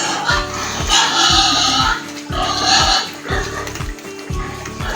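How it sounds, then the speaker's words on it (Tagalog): Fattened pigs fed on rice hulls grunt close by in a rapid series of low, rough snorts, with snuffling and shuffling between them. "Bakit ang tataba ng mga baboy niya na tahok"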